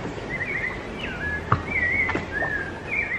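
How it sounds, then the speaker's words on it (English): Birds singing in the cloud forest of Mindo, Ecuador, repeated clear whistled phrases at moderate distance over a soft, steady background hiss, with a small click near the middle. "All you hear is birds."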